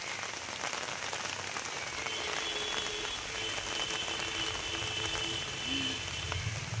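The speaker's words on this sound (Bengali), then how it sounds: "বৃষ্টি পড়ছে, বুঝলে।" Steady rain falls over a patch of taro plants, a dense, even patter of drops on leaves and ground that continues unbroken at close range with no talking.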